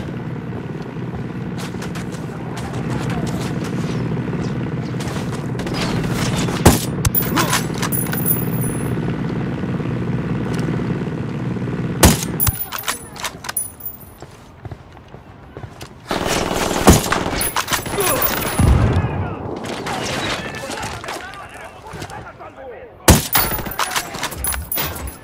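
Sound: gunfire in Ghost Recon Wildlands video game firefight

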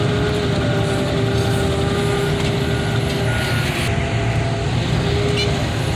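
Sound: loader at car crushing yard with reversing beeps

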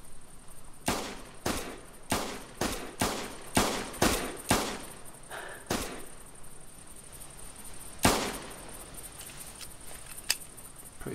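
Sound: 22 Grasshopper pistol shots in video game theHunter 2015

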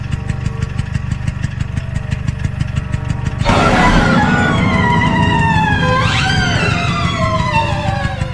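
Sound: scooter engine sound in a cartoon

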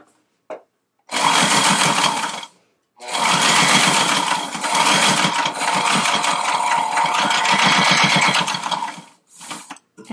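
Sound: sewing machine sewing a tie onto a chair slipcover

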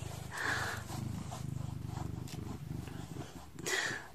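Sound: cat purring

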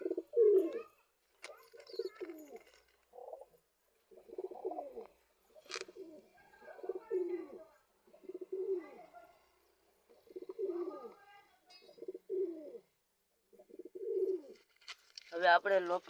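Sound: pigeons cooing

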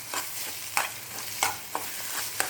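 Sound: egg masala podimas with vegetables stirred and frying in pan

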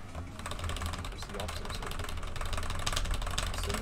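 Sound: rover engine driving in a video game

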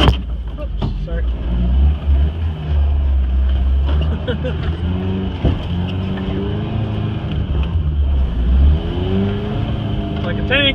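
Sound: truck driving in four-wheel-drive low

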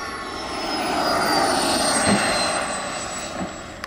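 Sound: giant R/C jet engine throttling up

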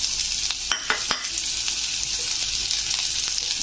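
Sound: onion frying and sizzling in oil in a pressure cooker

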